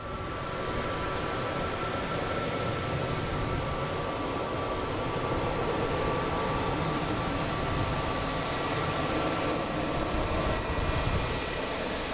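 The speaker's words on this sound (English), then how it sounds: "We got Southwest coming in here" A Southwest Boeing 737 arriving at Boston Logan from Baltimore Washington, a continuous broadband jet roar with a steady whine, loud and unbroken throughout.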